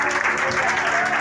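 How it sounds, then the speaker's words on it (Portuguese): Pentecostal church congregation applauding in worship, a steady wash of dense clapping throughout the short moment, with faint voices mixed under it. "Quem pode, aplaude e glorifica"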